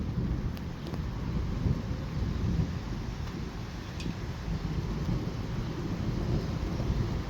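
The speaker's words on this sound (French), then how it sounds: "j'ai l'impression qu'on va rentrer dans le noyau dur de l'orage" Steady heavy rain roars through a violent thunderstorm in Bordeaux, France, with a low, continuous rumble beneath and gusty wind noise, no distinct thunderclap standing out.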